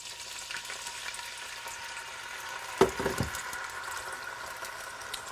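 Red wine poured into a hot pan to deglaze it after searing venison, giving a steady sizzle with a short burst of louder spattering and bubbling midway before it settles back to a constant fry.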